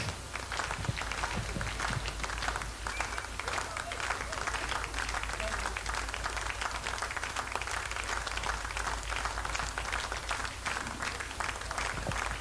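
Sustained applause from the audience at a dance competition grand finale in Seppa, Arunachal Pradesh, steady and dense throughout with crowd noise and a loud low hum underneath.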